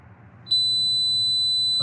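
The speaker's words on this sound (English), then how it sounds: "it's gonna beep" A Defi gauge fuel pressure warning in an Evo 9 sounds a steady high-pitched electronic beep tone continuously and loudly, starting abruptly after a faint hum and holding without a break.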